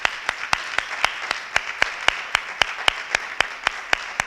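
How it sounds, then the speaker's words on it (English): An audience applauds the 2018 class of Fine Arts Hall of Fame inductees at a Southwestern College ceremony, with steady, evenly spaced claps standing out over a continuous wash of softer clapping. "Let's please give them another round of applause"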